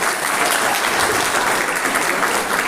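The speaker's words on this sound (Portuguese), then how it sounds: "Uma salva de palmas para essas mulheres que gostam de arrumar briga com os maridos." Audience applause at a church sermon, a dense, steady wash of clapping that holds loud and even throughout without pause, with no talk over it.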